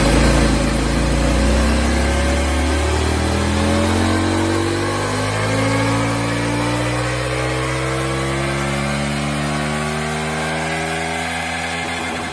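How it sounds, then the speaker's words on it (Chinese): A 2026 CFMOTO 1000MT-X motorcycle running on a dynamometer in 11°C air, its engine droning loud and close with pitch sweeping up through the gears in a sustained, continuous roar. "下面咱们就把它推上马力机啊，一起来看看它的马力曲线怎么样。"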